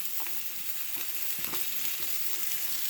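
Spices sizzle and fry steadily in a pan as turmeric powder goes in, a close, continuous crackling hiss with a few soft stirring scrapes, no voices.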